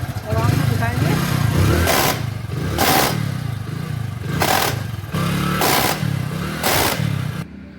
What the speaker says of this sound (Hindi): करते हैं बाइक स्टार्ट, फिर आपको दिखाएंगे।